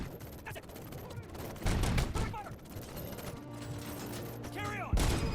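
Rapid gunfire bursts in a Robocop video game, crackling shots layered over mechanical clatter and game music, with a louder burst near the end.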